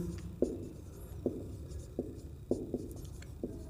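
Marker or chalk strokes on a classroom board during a Hindi grammar lesson, a series of short scratchy taps and squeaks spaced irregularly, fairly close over a quiet room hum.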